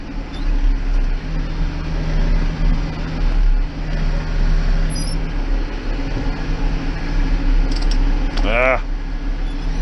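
A Massey Ferguson 6160 tractor running a hedge cutter keeps up a steady low mechanical drone, with a short squeal near the end and a voice speaking over it.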